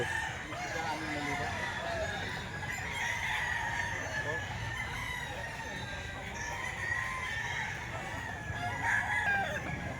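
A young rooster (stag) crows repeatedly at a farm, with clucking fowl around it, close and fairly clear over a steady background murmur with some talk.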